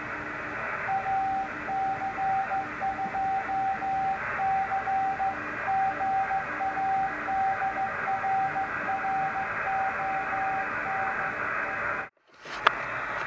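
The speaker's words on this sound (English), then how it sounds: "that magnetic loop antenna sure does a decent job of picking up faint signals" A faint amateur radio DX signal comes in on a homebrew magnetic loop antenna as steady keyed Morse-like tones over hiss and static, with a brief dropout near the end.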